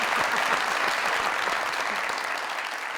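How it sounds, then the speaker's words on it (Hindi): A studio audience on the Mazaq Raat comedy show breaks into applause: loud, dense clapping that holds steady and then eases slightly toward the end, with no talk over it. "बेचारों के लिए ताली"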